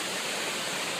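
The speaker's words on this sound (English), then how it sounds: "So this is the bottom of the series of waterfalls." A series of waterfalls at George W Childs Park in Pennsylvania rushes with a steady, dense broadband roar, close and continuous with no other sounds.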